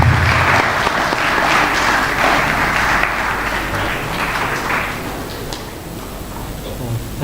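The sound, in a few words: audience applause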